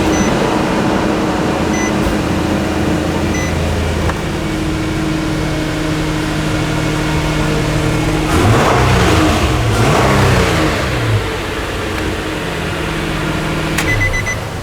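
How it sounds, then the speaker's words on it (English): A Nissan 4.0L V6 engine idles loudly and steadily up close, with a brief rev partway through before settling back to a constant hum. "Now that I know the engine runs great"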